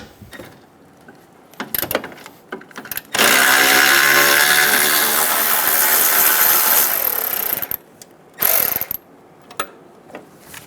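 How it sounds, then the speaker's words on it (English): A 10mm socket wrench takes out the horn assembly bolt on a 2007–2017 Ford Expedition. Short clicks come first, then a loud whirring ratchet run of about four seconds and one more brief burst, close up, with no speech. "Using a 10mm socket, we're going to remove the bolt"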